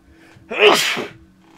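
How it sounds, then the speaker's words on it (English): A single person's sneeze, close and loud, with a quick sharp inhale building into one explosive burst that fades within about half a second, otherwise quiet around it. "I'm gonna sneeze."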